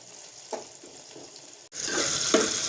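Tomatoes and onions frying in a pan while being stirred, a steady sizzle that grows louder partway through, with soft scraping stir strokes over it and no talking.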